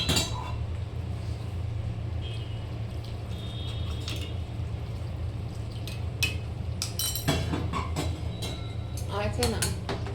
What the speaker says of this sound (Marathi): हे बघा मी आता हे गरम पाणी टाकून देते.